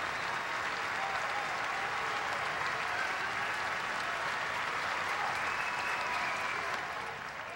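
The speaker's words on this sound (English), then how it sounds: "Crowd getting into it a little bit." A baseball crowd at a Rice vs LSU Super Regional game applauds in a steady, unbroken wash of clapping that holds at an even level throughout.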